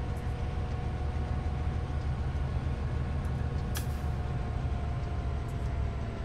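A Southern Pacific SD70M diesel locomotive hauling an enormous freight train on the Donner Pass incline in Train Simulator 2015, with a steady, loud low engine drone and rail rumble that holds evenly throughout, plus a brief hiss near the middle.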